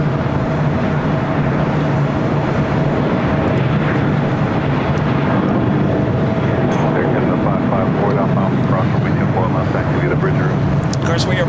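A Boeing 737 MAX 8 arriving from Vancouver lands at LAX, its engine rumble loud and sustained while people talk over it.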